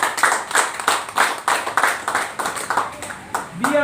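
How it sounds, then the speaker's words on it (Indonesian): An audience claps hands at a political party event in Medan, about a dozen loud, fairly even rhythmic claps close by, ending with a brief pinging tone. "Tepuk tangan."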